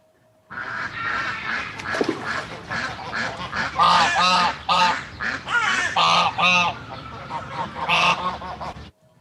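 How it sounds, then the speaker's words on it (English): Ducks honk and quack repeatedly in a busy, overlapping chorus, loud and close, with short rhythmic calls running throughout and no talking. "but there are ducks"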